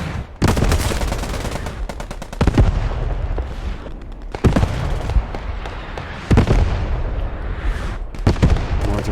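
German mortar shells exploding in a World War II shooter game match, a rapid series of loud, booming blasts mixed with crackling gunfire, the heavy impacts recurring every couple of seconds.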